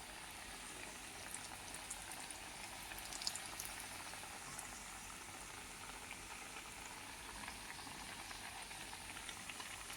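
Onion snacks fry in hot oil, a continuous soft bubbling sizzle with faint crackles throughout, steady and quiet without any voices.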